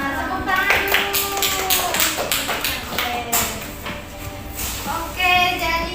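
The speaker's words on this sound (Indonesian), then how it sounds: "Tepuk tangan dulu." Pupils in an elementary school science class clap in short uneven bursts, with children's voices talking and calling out over the clapping.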